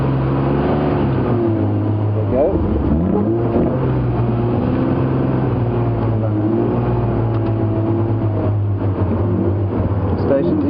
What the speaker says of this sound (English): Oh, now, please start, car.